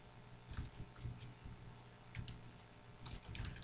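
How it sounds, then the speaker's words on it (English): Keys clatter on a computer keyboard in quick, uneven bursts of close, soft clicks with short pauses between them, quiet and with no talking. "we're going to go in here, and we're going to type in"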